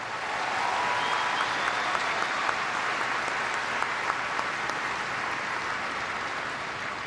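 Tennis crowd at the Brisbane International 2017 gives sustained, dense applause for champion Grigor Dimitrov, an even wash of clapping that holds steady throughout.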